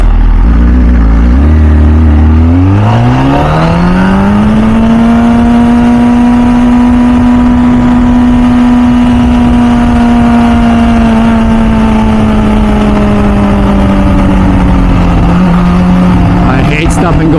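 An MV Agusta F4 Senna motorcycle engine pulls away from idle and rises into a loud, steady high-pitched drone with strong harmonics, holding near and prominent before easing slightly at the end.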